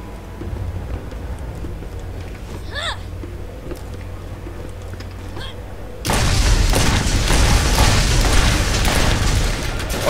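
Shotgun blasts in Borderlands, a dense, loud run of booming shots that starts abruptly partway through after quieter game ambience and continues to the end, with a person talking over it.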